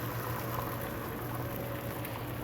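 Steady crackling sizzle of egg frying on a Blackstone griddle, continuous and fairly close, with no voices.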